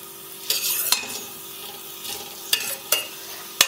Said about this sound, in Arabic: هحط بقى نص كميه الثوم زي ما قلت لكم، وابتدي ان انا اسيبها تاخد لون على خفيف بس